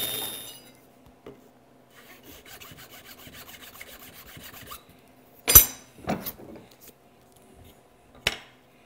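A Bridge City Tool Works HP8 mini block plane shaves wood in quiet scraping strokes, followed by a few sharper rasping swipes with gaps between them. Close and fairly faint.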